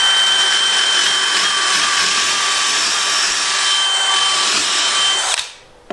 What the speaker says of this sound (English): and then go ahead and drill them through